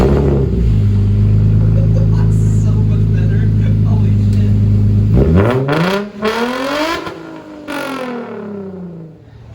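Infiniti G35 fitted with a Tomei exhaust and new flex pipes after an exhaust leak repair, droning loudly at steady speed, then revving and shifting through rising and falling engine tones near the end.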